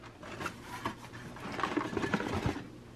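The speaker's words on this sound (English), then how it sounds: "So it sounds like styrene rattling." Loose styrene packing shifts and rattles inside a shaken cardboard parcel box, a dense run of soft scratchy clatters and rustles, close and fairly quiet, with no voices.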